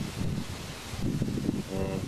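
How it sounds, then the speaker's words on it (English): Wind blows during a small wind turbine test outdoors, a rough, gusty rush buffeting the microphone in uneven surges over about two seconds. "We're getting a little better wind now."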